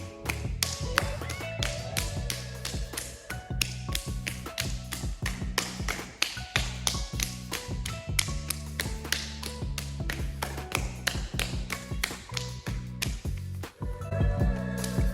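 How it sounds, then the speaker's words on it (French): Open hands tap symmetrically on the shin and calf in a fast, steady pattern of soft slaps that continues unbroken for the whole stretch. "les mains tapotent de manière symétrique"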